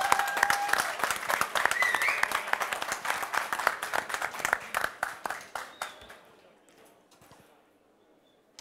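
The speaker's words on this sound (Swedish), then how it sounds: "En applåd" An audience at a cooking competition semifinal applauds in a lively burst of many hands, fading away over several seconds into near silence, with a voice briefly audible early on.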